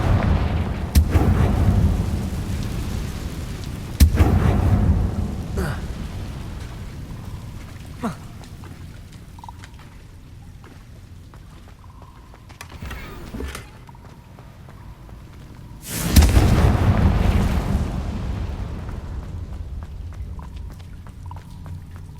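Confringo fire spell blasts in Hogwarts Legacy, a few booming impacts with crackling tails: one sharp blast early, a heavy rumbling burst later, and scattered smaller pops in between.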